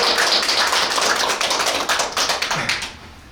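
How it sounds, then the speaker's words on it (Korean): Applause at the opening of a public diplomacy seminar, brisk clapping from a room of attendees that thins out and fades over a few seconds. "박수 한번 주세요."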